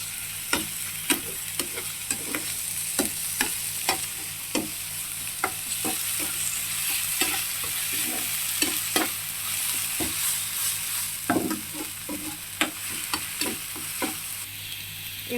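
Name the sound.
stirring fish curry masala with poppy seed paste in a pan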